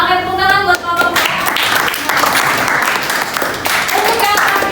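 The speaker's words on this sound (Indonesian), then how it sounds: "tepuk tangan buat kelompok 2" Classroom applause from schoolchildren clapping for a student group, a steady patter of many small hands, with a voice audible over the start before the clapping carries on.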